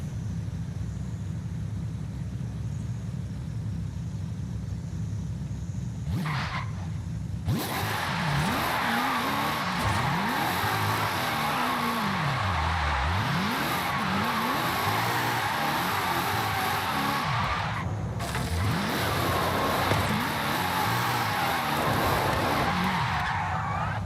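A car drifting in Forza Horizon 5, engine roaring continuously with long, wavering tire squeals and skids, loud and close throughout.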